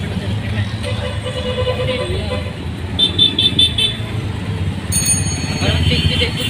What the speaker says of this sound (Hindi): ट्रैफिक भी देखो कितनी ट्रैफिक है।